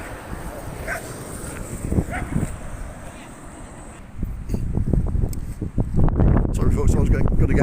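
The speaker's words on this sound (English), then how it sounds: "I was going to get eaten by a dog then, but it turned out to be on the lead" A dog on a lead barks along a disused railway path, sharp barks coming and going near the microphone amid wind and rustling, while someone talks over much of it.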